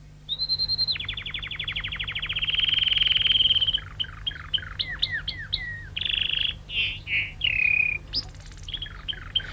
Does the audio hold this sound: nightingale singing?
yes